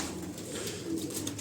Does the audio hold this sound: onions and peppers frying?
no